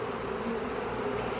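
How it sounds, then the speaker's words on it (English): Honeybees from a 3 lb package, installed in a nuc box, buzz in a continuous dense drone, steady and fairly soft, with no voices. "Now you have the bees inside this top box"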